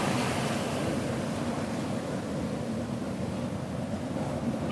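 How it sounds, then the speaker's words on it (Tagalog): Steady roar of ocean surf at Taqah with waves washing in continuously, mixed with wind buffeting the microphone. "Ganitong alon dito sa bungan."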